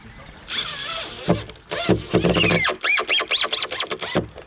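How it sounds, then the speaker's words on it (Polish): A screw is driven into timber lintel formwork on a building site, giving a run of about seven short, rhythmic squeaking chirps, close by, after a stretch of someone talking. "wkręcam jednego wkręta"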